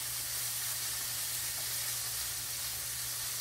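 Liver and onions frying in a pan, a steady soft sizzling hiss with a low hum underneath, even and continuous, with no talking.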